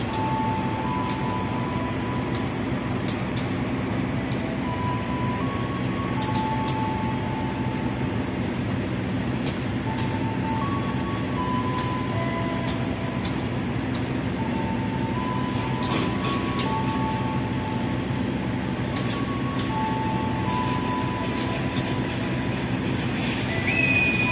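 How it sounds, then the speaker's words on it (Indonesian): The Manahan executive train departing Purwokerto station, hauled by locomotive 0320: a steady, continuous rumble of rolling stock with sharp clicks and brief tonal squeals at intervals, without voices. "Persiapan kereta api Manahan dengan tujuan akhir stasiun Gambir, Jakarta diberangkatkan dari stasiun Purwokerto"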